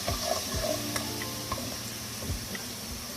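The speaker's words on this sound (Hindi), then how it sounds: "तो क्या आप देख लें प्याज फ्राई हो रहे हैं" Sliced onions frying steadily in a pan for a mash daal, a dense continuous sizzle with occasional light clicks of the utensil, close and fairly loud, no voices.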